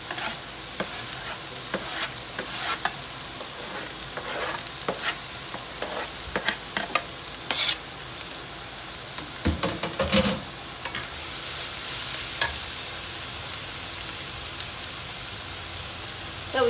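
Scallion, onion, green seasoning, carrots and thyme fry in a pan: a continuous crackling sizzle with intermittent scraping and clattering as the mixture is stirred.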